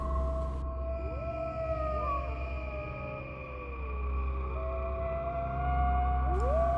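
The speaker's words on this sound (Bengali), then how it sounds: "জঙ্গলের পাশ থেকে ভেসে আসছে অনবরত মাংস খেকো শিয়ালের ডাক।" Jackals howl from the edge of a forest at night, several long wavering wails rising and falling over each other against a constant low rumble.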